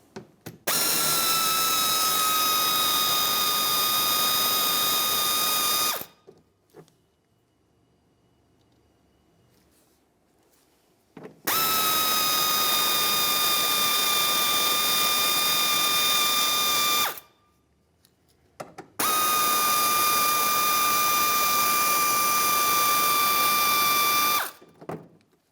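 Power driver backing out 5.5mm mounting screws in the wheel well of a 2009-2019 Ford Flex, three loud sustained whining runs of several seconds each, separated by quiet pauses.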